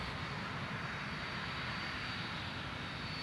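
Military airplane engine from Singapore's air force, which flies trainers, F-5 Tiger interceptors, A-4 Skyhawks, Hawker Hunters and F-16s, holding a steady, loud, broadband roar with a high whine for the whole stretch and no talk.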